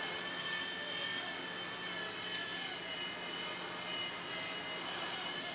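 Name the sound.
Blade Nano S3 RC helicopter flying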